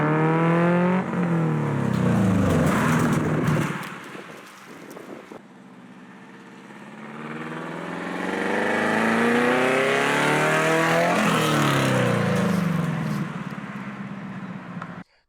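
An all-wheel-drive classic VW Beetle build with no windshield, driven at higher speed: engine revs rise and fall through gears with a loud, close roar, easing briefly before climbing again.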